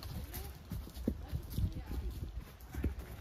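Friesian horses walk along a forest path with irregular, soft hoof clip-clops at close range, while people talk quietly in the background.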